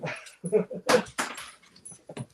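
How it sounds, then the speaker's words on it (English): Two dogs whimper and yip in short bursts close by, mixed with a person talking over them in a home setting. "So there are the dogs, everyone."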